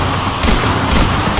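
Dense, loud gunfire in a Minecraft zombie apocalypse, a continuous barrage of shots against zombies with overlapping booms and no pauses.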